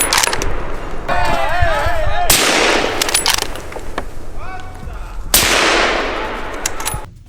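Bursts of rapid gunfire crack across an open field during a wild boar hunt, loud and near, with heavy volleys around the two- and five-second marks and shouted voices breaking in between.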